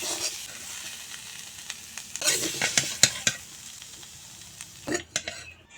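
Fried banana stem is stirred and lifted from hot oil, a soft continuous sizzle broken by scraping and clinking of a utensil against the pan, a few louder bursts of crackle near the middle and end.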